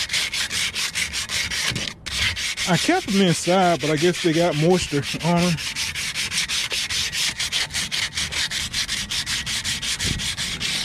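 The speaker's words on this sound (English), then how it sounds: "It's just surface rust, as they say. I'm gonna sand it off." Sanding surface rust off brake rotors makes a steady, close abrasive rubbing that runs the whole way through, with a voice talking briefly over it partway.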